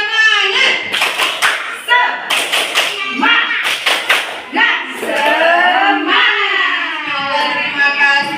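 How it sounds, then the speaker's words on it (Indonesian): A group of kindergarten teachers performs the rhythmic 'tepuk semangat' clap, crisp bursts of patterned clapping interleaved with chanted and sung voices, loud and close throughout. "Mari kita tepuk semangat dulu. Boleh dengan gayanya masing-masing ya."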